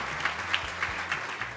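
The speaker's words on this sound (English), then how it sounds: "So a big round of applause, please" A crowd at a business awards evening gives brief, steady applause, moderately loud and even throughout, with a few faint tones underneath.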